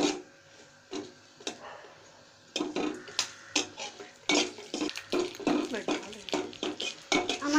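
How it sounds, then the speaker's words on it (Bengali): Garlic frying in oil in a pan while being stirred, heard as a soft sizzle under sharp utensil scrapes and clinks against the pan, with someone speaking over it. "আমি রসুনটা একটু তেলে ফেলে নিব। আপনারা তেল না দিলেও পারেন। নাড়াচাড়া করবো।"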